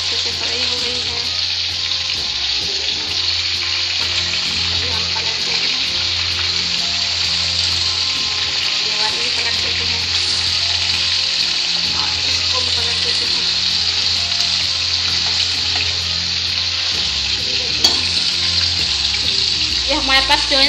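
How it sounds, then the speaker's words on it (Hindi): Rohu fish fillets frying in hot oil with whole coriander seeds, giving a loud, steady, close sizzle that runs unbroken throughout with a few faint clinks. "हमारे पास जो है ना रोहू मछली है, इसमें कांटा भी नहीं ज़्यादा, और ये फ्राई हो रही है अच्छे से।"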